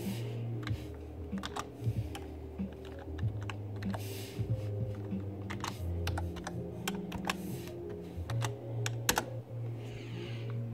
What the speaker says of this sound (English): Let me type in the password for him.